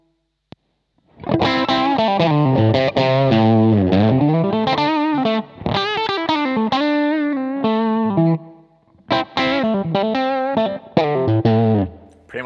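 Electric guitar played through a DSM & Humboldt Dumblifier overdrive pedal with its mid boost switched on, giving a thick, driven tone as phrases and sustained chords ring out loudly with short gaps between them.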